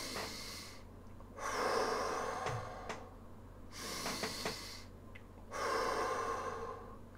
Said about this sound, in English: breathe in through the nose, out through the mouth, and breathe all the way through to your navel